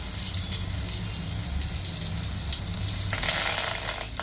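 Curry leaves sizzle in hot oil with a bright, steady crackle that swells louder near the end, close and without talk.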